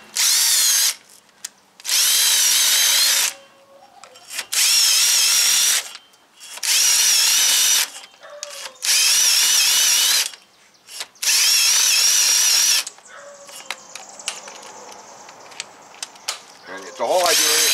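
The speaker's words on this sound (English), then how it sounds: "It's called the Hub Buddy. I'll show you how this little guy works." A Hub Buddy wheel hub cleaning tool spun by a drill while servicing the front brakes of a 2018 Jeep Wrangler Unlimited Sport, heard as six loud, steady whirring bursts of a few seconds each, split by short pauses, with brief talk between and after them.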